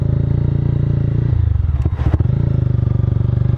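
A Mahindra Mojo motorcycle is ridden, its steady engine drone continuous and close throughout, with a brief dip and a clattering, scraping flurry midway before the even hum resumes.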